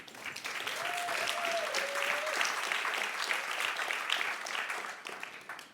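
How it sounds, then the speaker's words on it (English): Sustained applause from an audience welcoming a speaker at the RiseUp Summit, steady and dense throughout with a brief whistle or tone riding above it early on. "Let's give them all a warm welcome applause."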